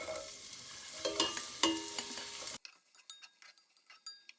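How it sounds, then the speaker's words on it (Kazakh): Onion and carrot frying in a little oil in a pot, with stirring scrapes and clinks over a steady sizzle that drops off sharply partway through, leaving quieter crackles. "Біздің пиязымыз бен сәбізімізді қуырамыз"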